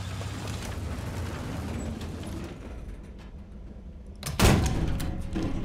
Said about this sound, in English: Okay, that's artillery.